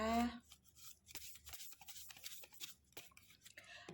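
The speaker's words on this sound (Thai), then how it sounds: "เดี๋ยวขออนุญาตสับไพ่นิดนึงนะคะ" Tarot cards being shuffled by hand, a run of soft riffling and rubbing bursts close up, with someone talking over them.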